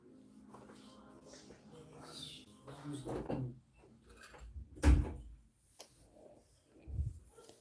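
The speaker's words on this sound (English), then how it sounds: "Can you close the door? Close the door," A door closes with a firm thump partway through, near and fairly loud, amid room noise and background voices in a home crochet-craft setting.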